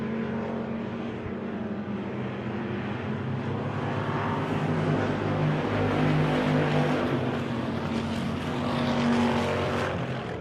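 Race cars roar around Victory Lane Speedway in weekly racing, a loud continuous engine drone that swells and fades as the pack passes, with no talk over it.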